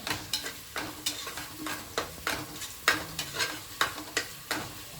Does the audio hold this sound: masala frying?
yes